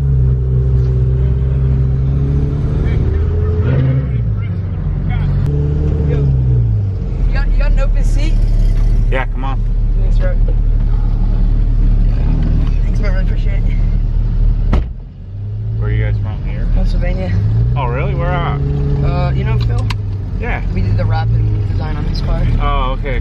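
Several Porsche GT sports cars rumble and rev nearby in the Smoky Mountains, engines rising and falling in pitch as they pass, loud and continuous.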